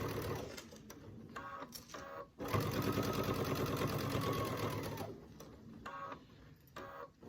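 A sewing machine stitches binding onto an heirloom quilt top in short bursts of rapid mechanical whirring, with one long steady run in the middle, heard up close and quiet with no speech.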